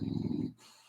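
A pet dog snores close by with a low, rumbling, throaty breath lasting about half a second, then fades into quiet room tone.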